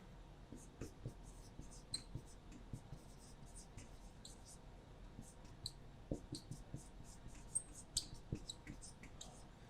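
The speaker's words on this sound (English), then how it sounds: "So I'm going to write foodborne illness up here." Marker or chalk writing on a board in a K-12 risk assessment session, a steady run of faint scratchy strokes and small taps spread across the whole stretch, quiet and close, with occasional soft voice sounds underneath.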